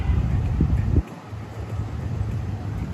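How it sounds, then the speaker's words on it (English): Strong wind gusting outdoors in downtown Miami at night, a loud rumbling roar buffeting the microphone that drops briefly after a second, then keeps blowing steadily. "Extremely windy tonight."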